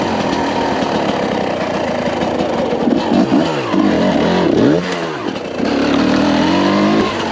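A 2022 TM EN300Fi enduro motorcycle is ridden off-road, its engine droning steadily and then rising and falling in repeated revving swells, loud and close throughout.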